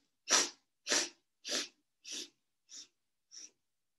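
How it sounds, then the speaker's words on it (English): Six short, sharp sniffs of breath drawn in through the nose during a yoga breathing exercise, evenly spaced and growing gradually softer, close up with silence between them. "you're going to be like sniffing the breath in."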